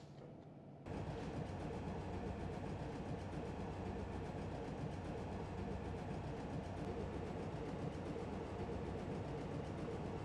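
A Class 421 electric train in Train Simulator 2018 pulls away from a station on the Tonbridge to Hastings line, a steady loud rumble and rolling wheel noise starting abruptly and continuing evenly with faint rhythmic clicks.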